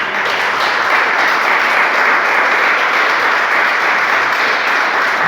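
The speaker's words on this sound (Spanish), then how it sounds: "Un aplauso de alabanza." Church congregation claps loudly in praise, a dense, constant wash of applause sustained for the whole stretch with no talking.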